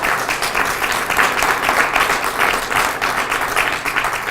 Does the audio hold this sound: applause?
yes